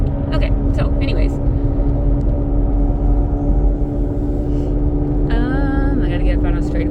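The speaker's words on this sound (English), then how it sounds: "It's driving pretty decent, driving smooth, other than the, excessive loudness as far as the wheel bearing." A 2006 Pontiac G6 with a worn, excessively loud wheel bearing, heard from inside while driving: a steady, heavy low drone and rumble with a constant humming tone, plus brief faint voice-like sounds.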